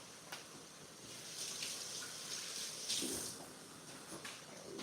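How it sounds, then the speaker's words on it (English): Tap water runs into a kitchen sink as hands are washed, a soft steady hiss with small splashy surges, fairly faint and with no voices. "Let me go wash my hands real quick."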